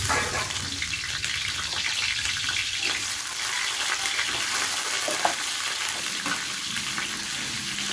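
Potatoes frying in hot oil in a kadai, a steady loud sizzle and crackle throughout with faint stirring scrapes, no talking.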